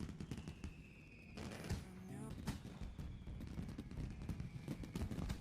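Fireworks bursting outdoors on New Year's Eve: a dense run of sharp, crackling bangs in quick irregular succession, with a louder cluster midway over a steady background rumble.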